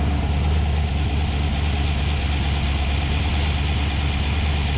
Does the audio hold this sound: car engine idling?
yes